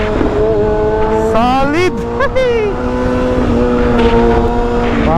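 A big bike motorcycle engine revving in first gear, with a steady close rumble broken by a few quick rising rev blips and the drop back after each, while people talk over it.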